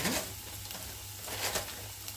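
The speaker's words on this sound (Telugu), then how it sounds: "ఇవి కొంచెం బాగా ఫ్రై అవ్వనివ్వాలి" Onions and tomatoes fry in a pan, giving a steady close sizzle with light stirring scrapes and soft hiss peaks, no voices.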